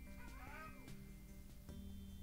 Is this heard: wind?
no